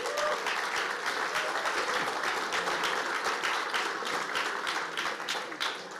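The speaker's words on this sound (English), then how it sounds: "can you capture that applause for later on?" Steady applause from a crowd at an awards ceremony, many hands clapping continuously at an even level throughout.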